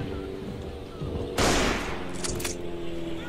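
A single loud rifle shot cracks out over steady background battle noise in the World War I trench game Verdun, followed by fainter distant reports.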